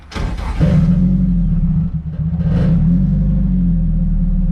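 A Nissan S14 idling with its fuel pump switched off while running rich from a suspected leaking injector, a low steady rumble with a sharp burst at the start and a slight rev midway, no talk.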